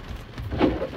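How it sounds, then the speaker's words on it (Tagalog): Heavy rain pouring steadily outside, a dense hiss with a brief louder swell, brief and close. "Malakas yung ulan."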